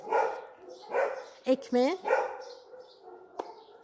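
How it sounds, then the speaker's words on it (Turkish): Neighbours' dogs bark at a Turkish residential complex: a couple of quick, distant yelping barks rise between stretches of someone talking quietly nearby. "Vallahi sitenin köpekleri havlıyor. Benimki değil. Komşumuzun köpeği havlıyor."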